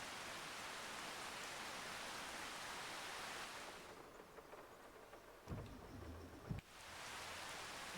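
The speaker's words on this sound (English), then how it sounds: "tell you what, I'm gonna get out of this rain." Steady rain hisses continuously in the Farming Simulator 25 video game, broad and loud, easing for a moment mid-way with a few muffled knocks before the downpour returns.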